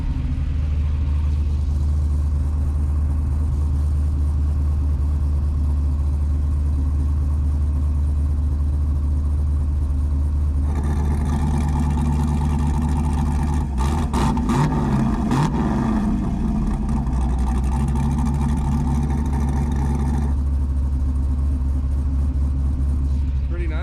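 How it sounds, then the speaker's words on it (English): A 370 cubic-inch LS V8 in a Chevelle idles and revs with its exhaust cutout open, a steady loud low rumble throughout that swells into a rougher, more open burst near the middle before settling back; talk is heard over it. "I'll go ahead and show you guys the cutout, how it sounds."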